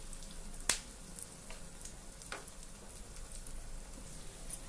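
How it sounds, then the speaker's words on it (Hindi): Beetroot tikki shallow-frying in a pan, a quiet, even sizzle with a sharp click early on and a few faint pops and crackles. "इसे डीप फ्राई नहीं करना है, शैलो फ्राई करना है।"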